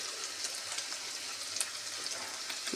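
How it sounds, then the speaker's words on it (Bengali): Steady crackling sizzle of peanuts frying in a pan, with small pops and spits scattered through, no voices. "বাদামটা দিয়ে দিচ্ছি, একটু ভাজা ভাজা হোক"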